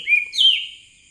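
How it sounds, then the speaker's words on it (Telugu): A single bird calls twice in quick succession, a clear rising whistle followed by a brighter note, close and alone. "ఆ కోయిల ఎంత బాగా పలకరిస్తుందో"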